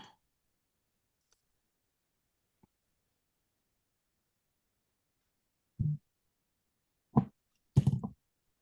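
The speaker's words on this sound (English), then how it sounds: "I'm just going to click copy" A computer mouse gives a few sharp, close clicks: one faint tick early on, then three louder clicks near the end, separated by near silence.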